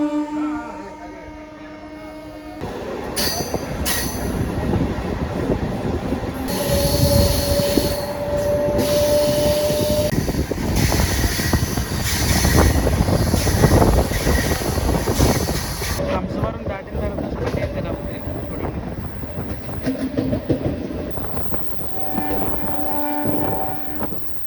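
A Rajahmundry to Visakhapatnam special express runs on the rails toward Tuni station, with a loud, continuous rumble and clatter of wheels, a rising squeal, and brief tonal horn-like notes heard from aboard.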